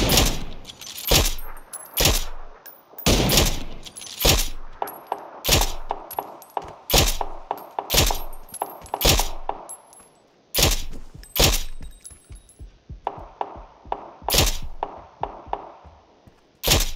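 Bot gunfire in PUBG: Battlegrounds, sharp loud shots ringing out alone in irregular bursts and single cracks, some rapid strings of automatic fire, over about seventeen seconds.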